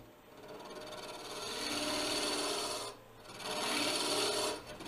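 Steady, harsh scraping of a lathe tool cutting away waste wood from a spinning hollow form, loud and close, with one brief pause before it resumes.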